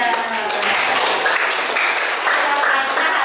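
A classroom breaks into applause for a student, a steady wash of clapping that holds for about three seconds, with voices chattering underneath.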